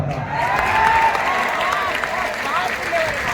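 An audience at a poetry recitation breaks into applause mixed with cheering and whistles, a continuous crowd roar at fairly even loudness throughout.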